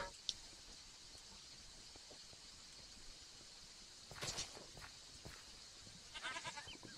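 A Minecraft goat gives a couple of short, faint bleats amid quiet game ambience, a brief cry near the start and another pair of nasal calls later on.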